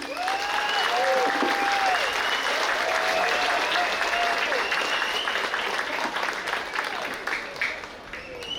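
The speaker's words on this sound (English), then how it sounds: "please give him another big round of applause" A large crowd gives sustained, loud applause at an opening ceremony for the Belau Games in Palau, with cheers and whoops rising over the clapping throughout.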